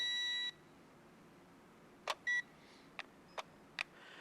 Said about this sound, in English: This thing's beeping like its batteries are low